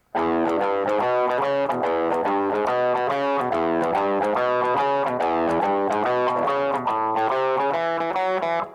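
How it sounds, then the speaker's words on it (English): Electric guitar played through a cheap Moore multi-effects pedal set to heavy fuzzy distortion, a continuous loud riff of chords and notes with no talking. "I am using my cheap Moore multi-effects pedal to achieve a nice fuzzy distortion."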